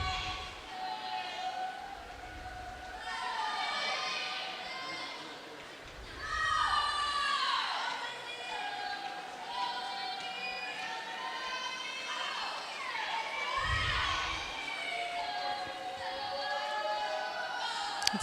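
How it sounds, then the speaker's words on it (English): Teammates cheer on a swimmer at a girls' high school swim meet in an echoing indoor pool, with a steady roar of many overlapping shouting voices and whistle-like cries swelling and falling throughout. "It's great to hear her teammates cheering her on."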